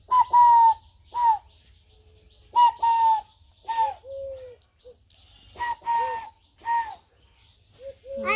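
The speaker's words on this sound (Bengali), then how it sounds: "ঘুঘু পাখির ডাক আমাকে বেড়ে পারে" Dove calls sound out in a village, with clear, repeated tonal coos in short bursts and pauses. They are fairly loud and close, with no talking over them.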